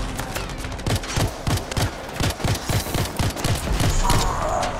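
Rapid pistol gunfire in the video game Anthem, a fast string of about a dozen sharp shots in a steady rhythm, loud and close, followed by a brighter whooshing burst near the end.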